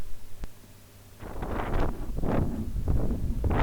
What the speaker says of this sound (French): Le vent souffle toujours de plus en plus fort.